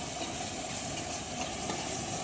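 Shallots with ginger-garlic paste sauté in hot oil for a country chicken fry, giving a steady, even sizzle and hiss throughout with no pauses and no voices.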